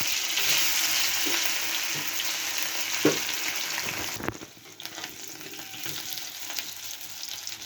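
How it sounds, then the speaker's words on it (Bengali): Potatoes coated in salt and turmeric frying in a pan after eggs for an egg curry, a continuous near sizzle with occasional stirring knocks, quieter toward the end, no voices. "আমি নুন হলুদ মাখিয়ে আলুটা একটু ভেজে নেব।"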